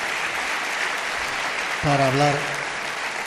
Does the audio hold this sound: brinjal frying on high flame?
no